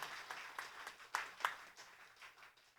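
A church congregation applauding at a Christmas morning worship service, a faint, distant patter of clapping with a few louder claps standing out, softly fading toward the end.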